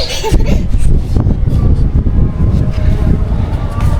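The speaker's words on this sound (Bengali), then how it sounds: "রোদ কিন্তু বাতাস আছে না সুন্দর বাতাস" Wind blowing on a sunny rooftop, gusting against the microphone in heavy rumbling bursts while people talk over it.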